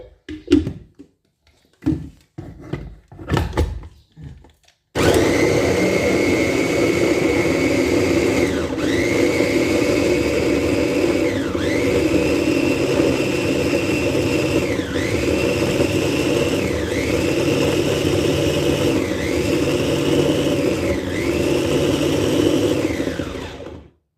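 Tomatoes are blended in an electric blender. After a few handling clatters, the motor kicks in loud and steady for about twenty seconds, its whine dipping in a regular rhythm as the contents churn, then it cuts off.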